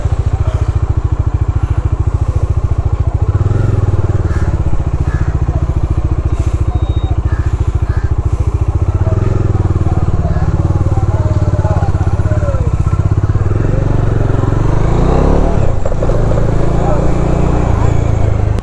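A motorcycle rolls along slowly near Kanyakumari, giving off a loud, close, continuous engine putter with a low chugging beat and occasional clattery bursts throughout.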